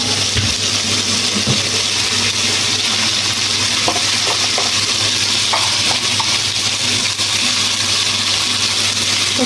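Pabda river fish frying with light spices, chilli and turmeric in a pan, giving a steady loud sizzle with occasional stirring clinks, continuous throughout with no talk.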